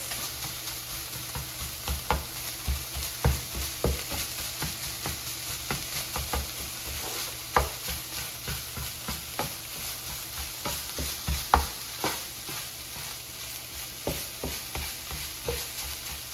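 Ground turkey seasoned with chili powder is stirred in a pan for fajitas, with a steady sizzle underneath and repeated close scraping and tapping of the spoon against the pan throughout.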